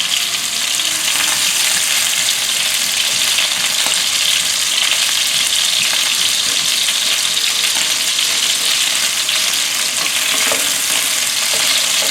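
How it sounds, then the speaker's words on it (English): Chicken shallow-frying in clean oil in a pan for spicy La Zi Ji, a loud, close, continuous sizzle and crackle with stirring, no voices. "Now we use the nice clean oil to fry the chicken"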